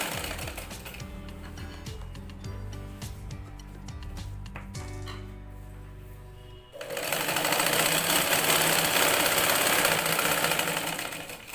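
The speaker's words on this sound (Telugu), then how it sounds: "చూడండి ఎలా చేపెట్టుకుని ఎలా స్టిచ్ చేస్తున్నానో మీరు కూడా అలాగే స్టిచ్ చేయాలి" A sewing machine stitches a fall onto a saree with rapid mechanical clatter, first in short stop-start bursts, then in a louder, steady continuous run.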